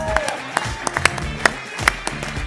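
Audience clapping at a pitch competition event, a sparse scatter of individual claps at a modest distance, with a voice speaking over it throughout.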